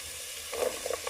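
Chopped onion and garlic sizzle in oil in a saucepan over low heat, a steady, close hiss with a few brief crackling bursts.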